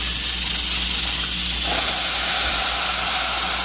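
Water poured into a pan of frying rice and golden garlic sets off a loud, steady hiss of steam and sizzling that keeps going without a break.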